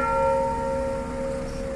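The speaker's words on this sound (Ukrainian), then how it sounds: "Дзвін Хмельницького Свято-Георгіївського храму дзвонить" The bell of St. George church in Khmelnytskyi tolls at a farewell, its struck note ringing out loud and sustained with bright overtones that slowly fade, with no voices over it.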